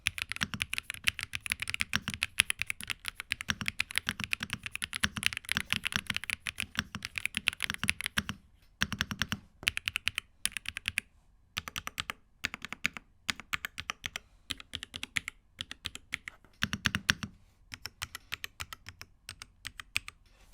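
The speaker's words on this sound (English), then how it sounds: "this keyboard is pretty quiet and has a light clicky sound" Rapid typing on a Redragon K687 Penumbra Pro aluminum mechanical gaming keyboard, light and clicky, close up with steady bursts of keystrokes and a few short pauses.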